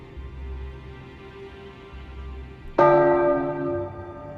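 A single bell strike rings out as an execution sound, hitting sharply and then decaying in a long resonant tail. A low hum sits beneath it, and no one speaks.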